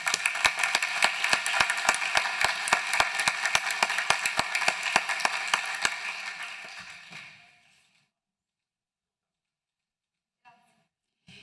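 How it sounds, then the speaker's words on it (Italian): Audience clapping at a university conference award ceremony on workplace safety, a steady close run of claps lasting about six seconds before fading into silence. "Un applauso."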